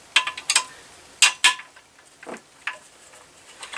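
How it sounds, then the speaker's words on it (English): An Allen wrench loosens the bolt on a racquet mount of a six-point stringing machine, producing a handful of sharp metallic clicks and ticks in uneven bursts, close and fairly quiet. "Take an Allen wrench that fits it and loosen that."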